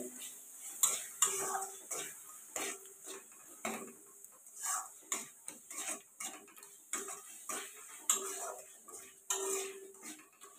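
Spices with chili powder and salt being stirred and scraped in a pan for a potol chingri curry, with repeated irregular utensil clinks and scrapes against the metal alongside a faint background sizzle, close and fairly loud, no talking.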